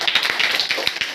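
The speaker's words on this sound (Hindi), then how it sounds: "इसके लिए ताली बजाओ।" Schoolchildren in a government school classroom in Bihar clap together, a quick, close run of sharp, uneven hand claps lasting about a second.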